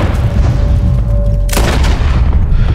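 Gunfire in Red Dead Redemption 2, loud and close, a sharp crack midway standing out from a dense, rumbling barrage of shots and background noise.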